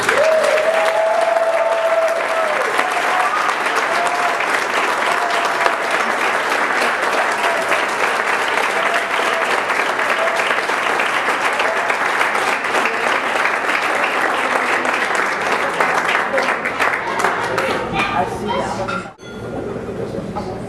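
An audience at a fathers' graduation ceremony breaks into long, loud, sustained applause that fills the room, with a brief voice at the start, then fades near the end.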